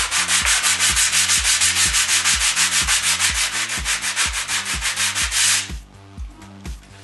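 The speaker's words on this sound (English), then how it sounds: "I'm just going to very lightly sand it down" Fine sandpaper wrapped on a wood block rubs back and forth over dried wall filler in steady, loud, rhythmic strokes, close up, then a few lighter passes and a pause near the end.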